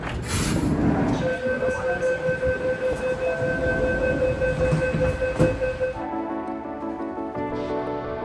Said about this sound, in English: The train to Tallawong is going to enter platform number 1.